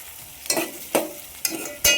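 Onion frying in a pan, heard as four short spoon-stirring scrapes over a faint sizzle, close up, evenly spaced.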